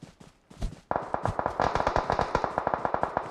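Rapid automatic gunfire in the mobile battle royale PUBG Mobile, a few scattered shots first, then a steady, evenly spaced string of sharp cracks at moderate loudness with no talk over it.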